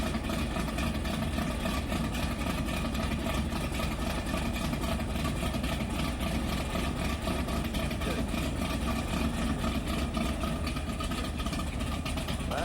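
The engine of a fiberglass dream car idles steadily after start-up, a continuous low rumble with a fast, even pulse, heard close and unbroken.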